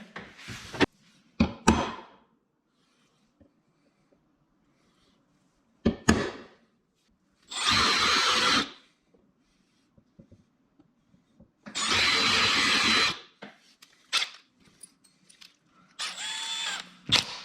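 A power drill whirs in two sustained bursts of a few seconds each, drilling holes in the doors of a Yamaha YXZ side-by-side, separated by clunks and handling noises, with a shorter whir near the end.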